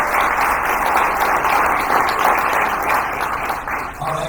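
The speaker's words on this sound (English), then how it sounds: "please round of applause for that." Sustained applause from a press conference audience at the IGLFA 2024 World Championship, a dense steady wash of many hands clapping at even loudness throughout, fading slightly near the end.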